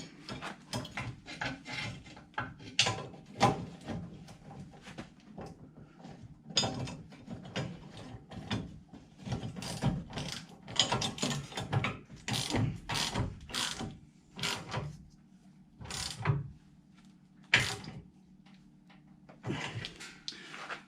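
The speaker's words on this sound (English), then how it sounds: "we're going to go use the deep socket from the bottom side coming up and kind of hold this in place from the top" A ratchet with a deep socket works bolts on a Jeep Gladiator JT while fitting a rear bed step, bursts of clicking ratchet strokes and metallic handling separated by short quiet gaps, close and moderately loud, without speech.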